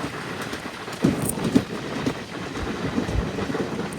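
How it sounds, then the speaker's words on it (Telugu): Narsapur Express train running on rails near Bhimavaram, heard as a steady rumbling roll with rhythmic clacks of wheels over rail joints, close and continuous. "మన ట్రైన్ చూడండి"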